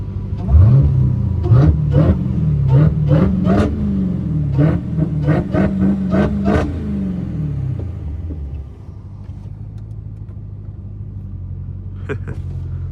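A Dodge Hellcat car engine is revved hard several times in a row, close and loud, each climb in pitch followed by a quick drop, before it settles into a low, steady idle rumble.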